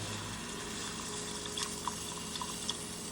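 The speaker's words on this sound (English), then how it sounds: "But we're going to add some beef broth." Beef broth is poured into a pan while making meatloaf gravy, producing a soft, steady liquid flow with a few faint clinks and splashes, close and quiet, with no talking.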